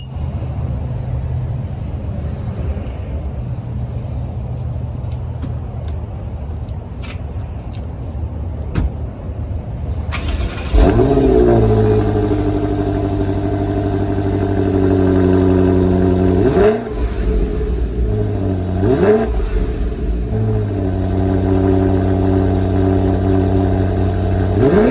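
A BMW X6M Competition's engine starts after a quiet stretch, settles into a deep idle, then rises in two sharp revs through the black-tipped exhaust, loud and close.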